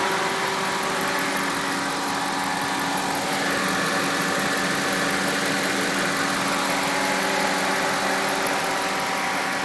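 A 2006 GMC Sierra Crew Cab 4x4 with a 5.3 liter engine idles in a steady, even drone with a constant hum, close and loud throughout, with no talk.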